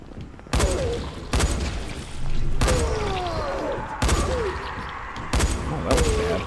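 Rifle shots in the video game Dying Light, about six sharp, loud reports spaced roughly a second apart, each followed by a short tail and rumble.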